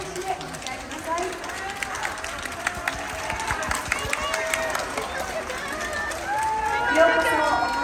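Audience at Hakata-za theatre applauding as kabuki actors Ichikawa Danjūrō and Ichikawa Shinnosuke take the stage, a dense continuous patter of many hands clapping with scattered voices mixed in, swelling slightly toward the end.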